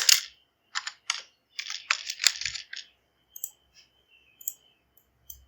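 Computer mouse clicking at a desk while a Pong game is built without code, heard as close, crisp clicks in quick irregular clusters that thin out to a few sparse, isolated taps, with no talking.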